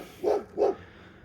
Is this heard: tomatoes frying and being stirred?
no